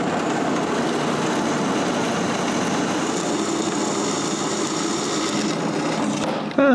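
A power drill bores holes through a new, larger wooden backing board for an X-Carve CNC machine, with the old backing used as a guide. It makes a continuous, even whirring drone for several seconds, then cuts off abruptly near the end.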